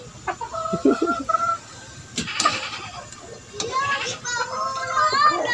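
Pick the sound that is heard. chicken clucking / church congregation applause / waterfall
chicken clucking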